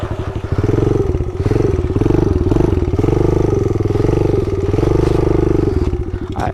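A pit bike motorcycle engine revs loudly and close while being ridden, with a rapid pulsing putter that rises and falls as the throttle changes, plus some rattling clatter.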